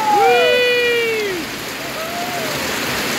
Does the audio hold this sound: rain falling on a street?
yes